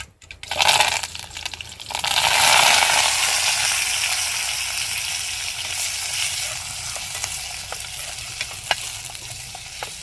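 Chopped onion, tomato and curry leaves hit hot oil in a pan with a loud, sudden sizzle that settles into a steady close crackling fry, with small metallic taps from stirring.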